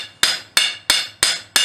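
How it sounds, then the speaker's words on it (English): Five light, evenly spaced hammer blows ring out on forged steel as a fishtail scroll is planished, each a sharp close metallic strike with a brief decaying ring. "We're just using light hammer blows here."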